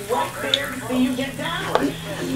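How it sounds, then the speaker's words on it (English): Breaded mock chicken drops into hot frying oil, which crackles and sizzles close up, with small pops throughout the short burst. "you're just going to drop that into the oil like such"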